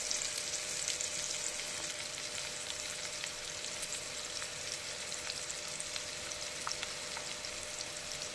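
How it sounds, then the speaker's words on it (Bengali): Onions frying in oil until browned, a continuous dense sizzle with scattered crackles and pops, steady and close throughout, with no voices. "পেঁয়াজ আমি লাল করে ভেজে নেব।"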